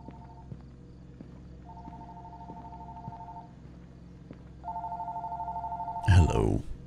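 A telephone ring tone sounds in intermittent bursts, faint at first, then louder, ending with a sudden clatter.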